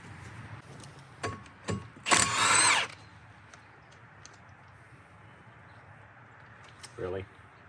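A power tool zips bolts out of a worn Bobcat track loader sprocket: a few short clicks, one sustained loud burst of impact whirring, then a brief final buzz, with quiet mechanical handling in between.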